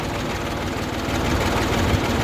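A heavy diesel engine of a new tractor chugs steadily throughout, a low rumbling drone that swells slightly louder in the second half.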